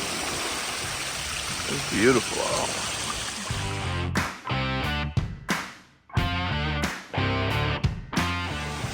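A waterfall pours into Lake Superior in a steady rushing wash, while a person speaks briefly over it and the water noise comes and goes.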